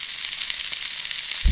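Food frying over a campfire at a solo overnight base camp, a steady crackling sizzle held close and even throughout, swelling into a brief louder pop at the very end, with no voices.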